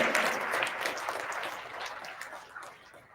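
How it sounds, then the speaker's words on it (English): Audience applause at a town hall event for a young entrepreneurs club, a dense wash of many hands clapping that stays steady and then slowly fades over a few seconds. "Come on, guys, you can give a good round of applause at this."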